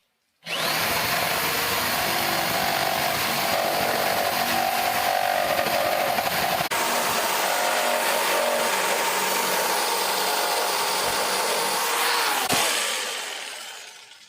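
A jigsaw starts abruptly and runs steadily for a long stretch, buzzing and whining as it makes a round cut, then winds down at the end.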